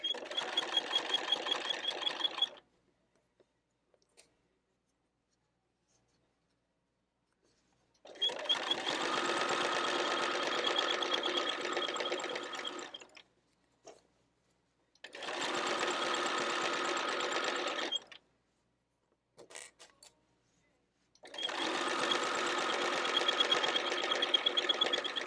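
A sewing machine stitches quilt binding in four loud runs of rapid, even mechanical chatter, separated by pauses of near silence with faint handling noise, including one with back stitching.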